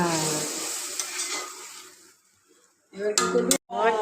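Hot masala for a koi fish curry hisses and sizzles in the pan as a little water goes in, a loud bright sizzle that fades into quiet before bursts of frying return.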